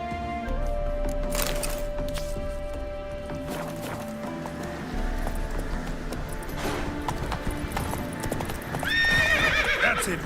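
Roach the horse gallops in The Witcher 3, a steady rhythmic clatter of hooves running continuously under game music, followed by a loud, clear neigh near the end.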